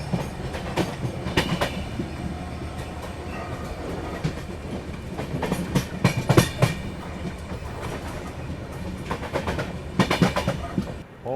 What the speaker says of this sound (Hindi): वहाँ देखिए डीजल लोकोमोटिव शंटिंग करता हुआ यार्ड में।